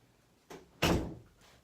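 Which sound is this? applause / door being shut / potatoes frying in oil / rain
door being shut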